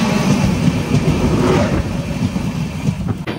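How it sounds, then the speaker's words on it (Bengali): The Kolkata–Sairang Express crosses a bridge with a loud, continuous rumble and rattle, the roar steady and close, then easing slightly toward the end. "আর সেই ব্রিজই কিন্তু ক্রস করছে আমাদের কলকাতা সাইরাং এক্সপ্রেস"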